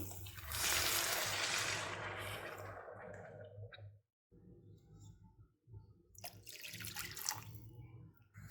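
Water poured from a glass into rice for peas pulao, a splashing gush that fades, a brief pause, then a second pour, close and clear with no voices.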